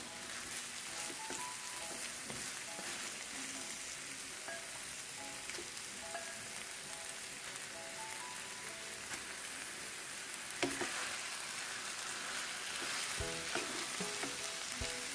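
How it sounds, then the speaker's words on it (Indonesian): Chicken pieces frying in spiced oil in a small wok for Manado-style ayam woku, a steady close crackling sizzle with occasional clinks of a spatula, and no talking. "Sekarang baru kita tambahkan atau masukkan daging ayamnya. Karena wajannya kecil, jadi daging ayamnya saya masukkan secara bertahap saja."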